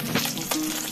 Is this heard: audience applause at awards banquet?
no